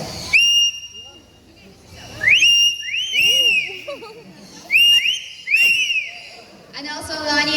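A pet bird mimics a whistle, producing several clear rising-and-falling whistled notes in separate bursts with short pauses between them, followed by a brief hissy chirp at the end.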